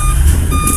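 Dump truck reversing beeps sounding steadily over a loud low engine rumble as the truck maneuvers into position on a sugarcane plantation.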